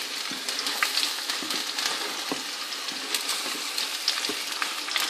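Garlic, onions, capsicum and shallots sautéing in a pan, heard as a soft continuous sizzle with scattered light scrapes and taps of stirring, fairly quiet and close.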